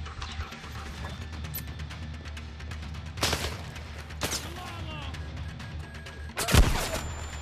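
Rifle gunfire in the VR shooter Zero Caliber comes in several loud, sharp bursts spread over the stretch, with the strongest volley near the end and a low background rumble between the shots.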